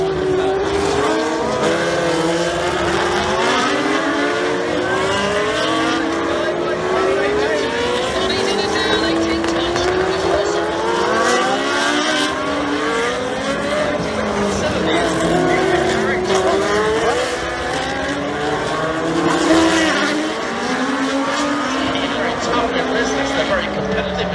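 Race cars at the 2016 U.S. Grand Prix scream past at speed. Engine notes rise and fall in overlapping sweeps the whole way through, and a commentator talks over the continuous roar.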